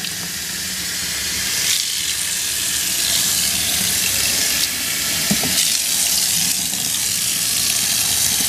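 A brush scrubs under a steadily running tap during the restoration of a Heathkit IM-16 solid-state voltmeter, giving a loud, continuous hiss of rushing water with faint scraping strokes mixed in, close up and without voices.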